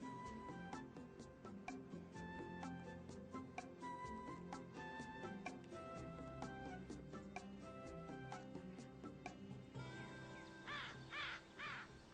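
American crows cawing in a series of short harsh calls over a dense musical score, the calls mostly masked by the music with a cluster of clearer caws near the end.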